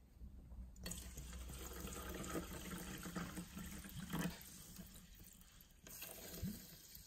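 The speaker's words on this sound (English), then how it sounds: "Let's pour some water in." San Benedetto sparkling mineral water pours into a cup in a steady, close trickling stream lasting several seconds, with a brief splash near the end and no talking.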